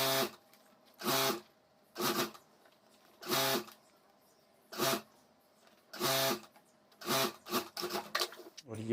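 A sewing machine stitching a 28-inch zip onto a homemade school bag, running in short separate bursts with brief pauses between them, each a close, buzzing whir.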